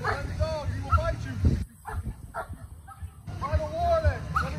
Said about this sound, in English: Show me the left hand, let's send the dog, he will bite you.